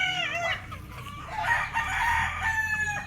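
A yellow-legged Kelso gamefowl rooster crows loudly and close by, one long drawn-out call with a rising and falling shape.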